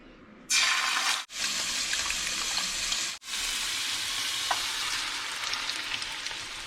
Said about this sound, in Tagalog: So yung niluluto ko is scrambled egg na may maraming onions